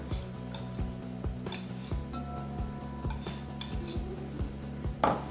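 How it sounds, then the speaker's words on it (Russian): A whisk mixes an egg with room-temperature butter in a bowl, making a quick, regular clinking and tapping of metal against the bowl's sides, fairly faint, with a louder scrape at the end. "перемешиваем венчиком."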